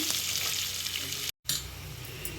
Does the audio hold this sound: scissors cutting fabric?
no